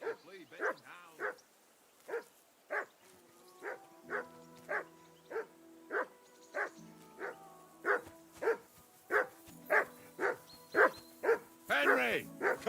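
A dog barks steadily and rhythmically in the medieval video game Kingdom Come: Deliverance II, about twenty evenly spaced barks under a faint musical drone, with a voice speaking near the end.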